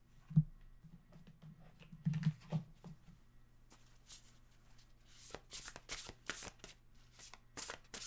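Tarot cards being shuffled by hand, soft riffles and flicking at first, then sharper bursts of rapid card slaps, close up and quiet, with no talk.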